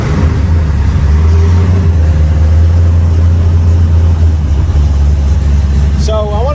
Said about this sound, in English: we're gonna actually fire the car up